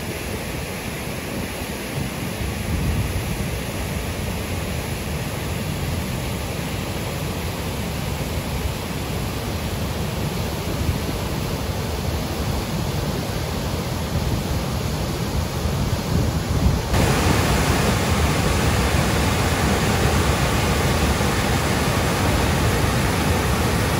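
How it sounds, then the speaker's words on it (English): Cataract Falls, the largest waterfall by volume in Indiana, roars as a steady, loud broadband rush that grows fuller and closer partway through, with no voices. "It's the largest by volume waterfall in the state of Indiana."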